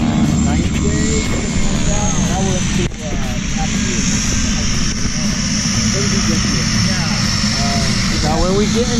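A tandem skydiving airplane's engine drones loudly and steadily close by, with people talking over the noise throughout.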